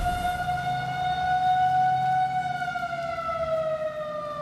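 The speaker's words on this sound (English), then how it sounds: "Those are tornado sirens in Houston, Mississippi, Wednesday." Tornado warning sirens in Houston, Mississippi wail in a long, steady, slowly falling tone, loud and continuous throughout with no voices.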